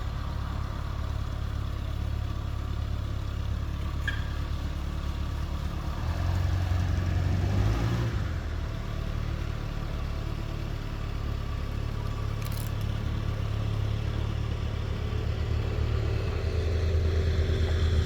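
A freshly painted van, windowless, runs with a steady mid-pitched engine drone close by as it creeps away slowly, the note swelling slightly as it gets going, with no speech over it.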